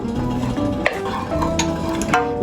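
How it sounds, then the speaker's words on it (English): Cashew nuts stirred in melted ghee in a pan for pepper jeera rice, a series of scraping and clinking strokes of a spoon against the pan over a soft sizzle, close and fairly loud. "Now it's time to add the cashew nuts. Mix them."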